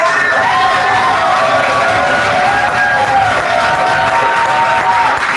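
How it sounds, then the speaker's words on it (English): A large crowd claps and cheers steadily throughout, a dense roar of applause with scattered whoops, loud and sustained without a break. "Give that man a round of applause"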